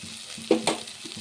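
Ginger garlic paste frying with softened tomato pieces in a pan, a low steady sizzle broken by two sharp utensil clanks and scrapes against the pan.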